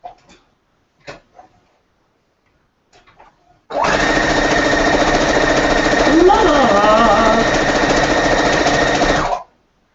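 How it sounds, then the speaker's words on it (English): A sewing machine stitches pinned quilt pieces together in one loud, steady, close whirring run of about six seconds, after a few brief knocks and quiet voices at the start. "Now I'm literally going to sew it"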